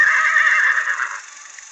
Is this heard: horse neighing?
yes